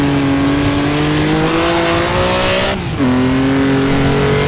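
A Maserati 250F racing engine in a sim racing game drones loudly and steadily, pitch rising under acceleration, dipping briefly at a gear change, then climbing again, with no talk.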